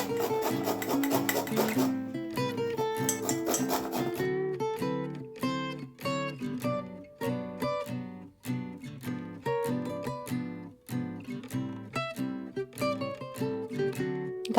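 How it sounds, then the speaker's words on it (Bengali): A peeled, slightly dried carrot is rubbed against a kitchen grater in repeated rasping strokes, quick and dense at first, then settling into an even, rhythmic back-and-forth scrape nearby. "ভালো করে এটাকে ছিলে নিয়ে এটা গ্রেটারে ঘষে নেবো।"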